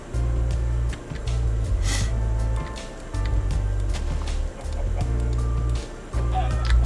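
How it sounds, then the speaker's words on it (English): Chickens in a blocky crafting video game cluck in short repeated bursts, with several pauses, over a steady low background hum. "There are so many chickens around here."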